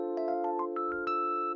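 A 3-1 chord substitution is played on a sustained keyboard-like instrument: a held chord with a short run of notes stepping upward on top, clear and alone.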